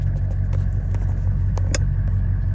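A 1984 GMC Suburban K2500 with a 6.5-liter Detroit diesel and Banks turbocharger drives along, filling the cabin with a steady, deep engine rumble and a few faint clicks and rattles.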